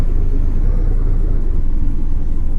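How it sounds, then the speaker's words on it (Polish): A heavy truck engine in a driving video game rumbles loud and steady, a deep continuous drone as it pulls away. "tir wyjeżdża!"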